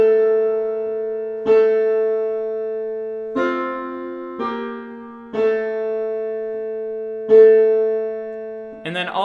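Lower choir parts, altos and basses, sing steady held notes that shift stepwise, new syllables entering every couple of seconds, with a short noisy sound at the very end.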